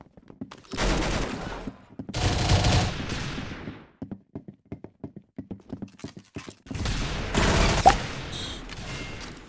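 Gunfire from the Roblox game Arsenal: dense bursts of rapid shots come in three loud clusters, with sparse single shots and clicks in between, and no one speaks.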